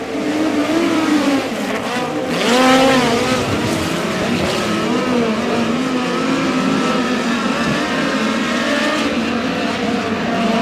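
Midget race cars in a heat race at Humboldt Speedway roar past in a dense pack, their engines droning and wailing continuously at high revs, loud and close.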